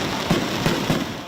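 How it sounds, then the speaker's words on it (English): Fourth of July fireworks display at a big all-day celebration in Clawson, Metro Detroit, with three distinct booming bursts spaced evenly over a steady crackling crowd-and-outdoor din, fairly loud and mid-distance. "All right, Jay, here in Metro Detroit, it's all about food and fireworks on the 4th"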